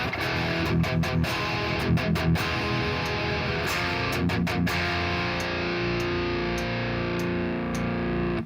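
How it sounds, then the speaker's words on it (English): Electric guitar played through a Nutcracker amp set for a simple, dry, low-gain tone, with repeated strummed chords and sharp accents that ring out loud and close, alone without any talking. "I just want a very simple, like a very simple, dry, low gain sound, so Yanin can hear the difference"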